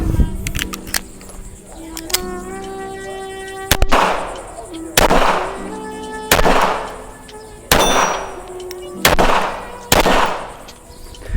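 Rounds of 9x18 Makarov fired from a CZ Scorpion strike steel targets, with sharp cracks and ringing metallic clangs repeating about every second, each hit ringing out with a bright resonant tail.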